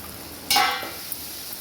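A brief burst of frying sizzle flares up as onions and tomatoes are stirred in a hot pan, then settles back to a low background.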